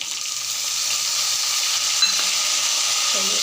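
Onions and green chillies sizzle in a hot pan for gojju avalakki, a steady, close frying hiss with a faint clink of stirring near the end.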